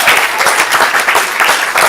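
An audience at a stand-up comedy student showcase bursts into dense, lively applause that carries at full strength for about two seconds.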